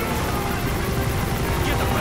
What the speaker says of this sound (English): The chopper's arrived